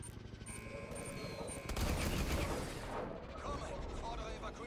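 Gunfire and heavy blasts from the video game Call of Duty Advanced Warfare, a dense rumbling barrage that swells midway, with combat noise and voices around it.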